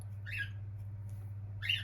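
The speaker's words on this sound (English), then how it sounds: "sorry about the birds, I don't know what's up with them, they're just fighting with each other constantly" Pet birds fighting with each other let out two short, harsh squawks about a second apart, moderately close, over a steady low electrical hum in a quiet room.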